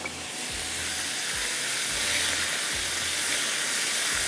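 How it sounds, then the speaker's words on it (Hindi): Minced keema fries on high heat with a loud, continuous sizzle and hiss, broken by a few low thumps as it is stirred in the pan. "तेज़ आग पर ही कीजिएगा और बड़ा अच्छा से ये फ्राई हो जाएगा कीमा"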